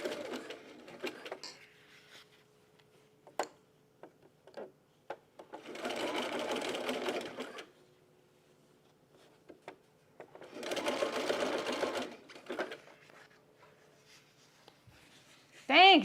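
A sewing machine stitches a bralette in two sustained whirring runs of about two seconds each, close and clear, with small clicks and handling noises between and someone speaking briefly.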